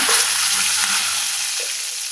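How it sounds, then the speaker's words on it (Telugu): A loud, close, crackling sizzle rises from a tempering of bitter gourd, cumin, mustard seeds, dried red chillies and curry leaves frying in oil, then tapers slightly near the end without any talk. "నెక్స్ట్ వచ్చేసి మనం ఇప్పుడు కాకరకాయ పోపు అనేది వేగిందండి"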